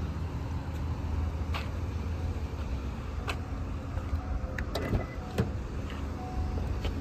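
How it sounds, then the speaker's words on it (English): Power windows on a Honda Accord lowering by remote, heard as a steady low motor hum with a few light clicks and knocks partway through, close by and with no one talking. "I rolled the windows down remotely to cool it off"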